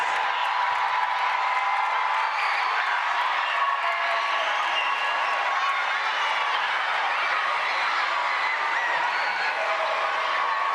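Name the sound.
audience applause for student music performers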